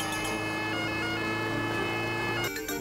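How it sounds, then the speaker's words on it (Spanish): An ambulance siren in an animated children's series wails steadily and fairly loudly with sustained tones, alone without talk, before a brief clatter at the end. "Creo que viene la ambulancia justo a tiempo."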